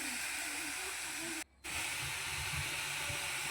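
A ginger, garlic, chili and onion paste sizzles steadily in hot oil with salt and turmeric for a cabbage curry, a constant close frying hiss that cuts out for a moment in the middle.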